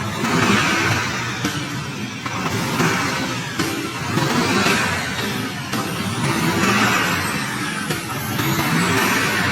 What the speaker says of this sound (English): Revving it up now.